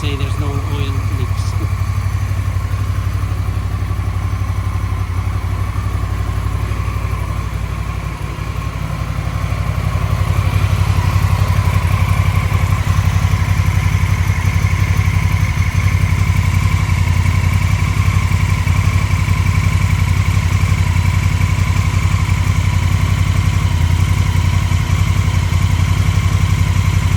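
A 2018 Honda Africa Twin CRF1000A idles steadily after an oil and filter change, a constant mid-pitched engine drone running throughout at close range, with a slight dip and swell partway through.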